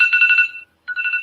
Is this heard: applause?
no